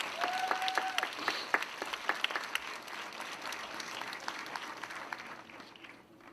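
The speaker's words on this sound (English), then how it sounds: "we should clap for them" Audience applause fills an awards ceremony hall, a steady wash of many hands clapping at moderate distance with sharper individual claps standing out, tapering off toward the end.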